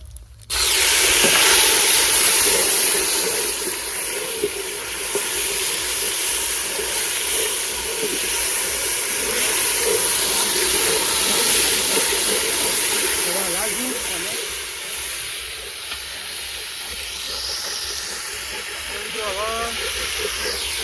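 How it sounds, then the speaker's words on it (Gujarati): Ginger-garlic paste hits a hot pan for village-style rajwadi khichdi, a loud, close, continuous sizzling hiss that holds steady and eases slightly toward the end. "તો મિત્રો, હવે આપણે અદરક લસણની પેસ્ટ નાખી દઈએ."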